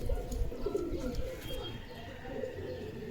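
Pigeons, including a male, coo faintly with low soft rolling calls amid a steady murmuring background, with no clear speech.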